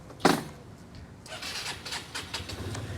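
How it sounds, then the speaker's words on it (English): A Yamaha Zuma 125 scooter engine cranks with a sharp start burst, then settles into a steady, fairly close idle. "I like to go ahead and start it up"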